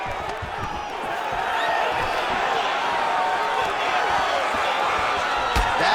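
Steady crowd applause and cheering fill the arena in EA Sports UFC 5 during a Khabib Nurmagomedov versus Royce Gracie bout, a continuous loud wash of clapping and voices with occasional thuds.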